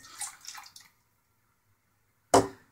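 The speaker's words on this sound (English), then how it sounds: "dump that water from this into the mug" Water is dumped from a shaving brush into a mug: after a few soft, faint dribbles there is a quiet pause, then one short, close splash.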